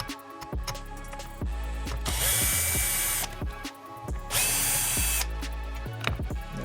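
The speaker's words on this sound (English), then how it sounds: "you will need to unscrew and remove these two screws" A power drill runs in bursts while removing screws from an Arrma Typhon 6s RC car's rear wing, with two long high-pitched whirring runs between shorter clicks and handling noises, close and loud, with no talk.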